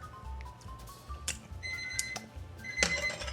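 A kitchen timer goes off in a home kitchen while tripe cooks, giving a few bright, ringing electronic beeps in short bursts over a low background hum, fairly close.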